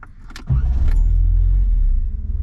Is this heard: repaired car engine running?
yes